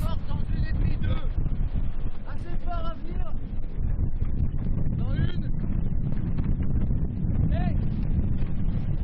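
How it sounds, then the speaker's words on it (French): A trimaran sailing at speed rushes through water during a speed run, with strong wind buffeting the microphone and splashing underneath, while people talk over the noise. "l'un de ces trimarans nous a accueillis à son bord, effectué un run de vitesse auprès du vainqueur de la route du Rhum, Erw"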